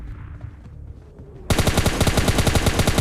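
Rapid automatic gunfire from a mobile shooter game as a bot is taken down, a loud, steady burst of evenly spaced shots that breaks in suddenly after a quiet stretch and fills the rest of the clip.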